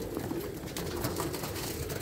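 Hungry pigeons coo softly in a low, repeated, burbling rhythm, close by, with no voices.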